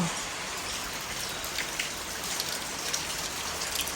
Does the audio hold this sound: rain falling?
yes